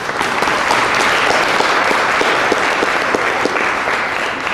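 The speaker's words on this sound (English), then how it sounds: "could we just have a round of applause for the Koopmans?" A large audience at an evening awards gathering applauds, a thick, steady wash of loud clapping with a few sharper individual claps standing out, continuing unbroken.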